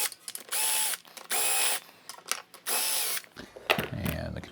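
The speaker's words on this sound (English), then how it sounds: "and then I can go ahead and take the bolts out all the way." A hand ratchet clicks in three steady bursts as cylinder head bolts are loosened on a Briggs & Stratton overhead valve small engine, each run of clicking separated by brief pauses, close and clear, followed by some handling clatter.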